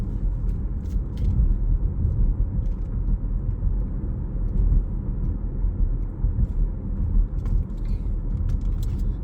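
Steady road rumble of a car cruising at about 35 mph through a town area with pedestrians nearby, a continuous low engine and tyre drone heard from inside the cabin for the whole stretch, with no talking.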